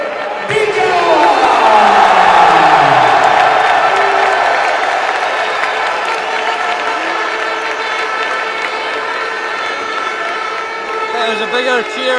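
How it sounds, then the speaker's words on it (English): Large stadium crowd at a Spain v Italy World Cup qualifier roars and cheers as David Villa, Spain's record goal scorer, comes on as a substitute, a loud sustained swell that peaks early and slowly settles while commentary talk runs underneath. "That was a bigger cheer than any of the goals."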